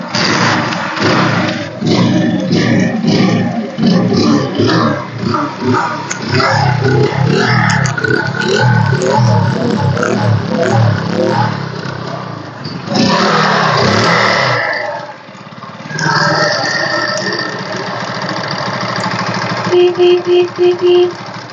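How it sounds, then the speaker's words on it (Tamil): A 2009 Hero Honda Passion Plus motorcycle engine runs close up for a long stretch, rising and falling with revs, with a persistent metallic rattling clatter from a noisy timing chain. "டைமிங் செயின் மட்டும் சவுண்ட் இருக்குங்க"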